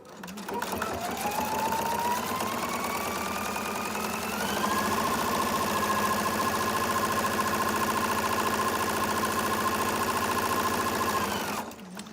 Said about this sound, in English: All I have to do is put my foot on the pedal and sew.